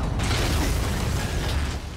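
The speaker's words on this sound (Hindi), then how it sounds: "भयंकर धमाका।" A loud, sustained blast from Spider-Man Miles Morales booms and crackles continuously for about two seconds with dense rumbling debris, no voices over it.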